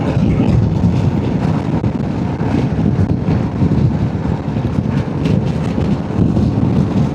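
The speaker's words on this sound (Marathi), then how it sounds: "वन साईड वारा आहे." Powerful wind blasts against the microphone in a loud, unbroken rumble with gusty surges throughout.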